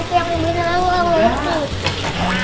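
Half-fried bread filled with chocolate sizzling in hot oil, a short burst of frying crackle under and alongside a voice speaking close by.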